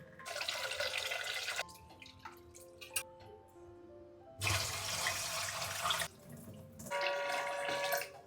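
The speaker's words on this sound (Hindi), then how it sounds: "सबसे पहले इनको हम धोते हैं, अच्छे से छान लिए हमने, इनको धो लेते हैं।" Poha (flattened rice) being washed in water in a home kitchen: bursts of running, splashing water alternate with quieter dripping gaps, repeated several times.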